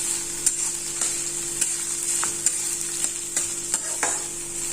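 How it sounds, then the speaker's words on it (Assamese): Chopped carrots and onion frying in ghee over low gas heat for pasta give off a steady, close sizzle, broken by light scraping clicks of stirring. "গেছটো অকনমান কমাই দিছো কাৰণ ঘিউ যে জ্বলি যাব সেইকাৰণে গেছটো কমাই ভাজিছো"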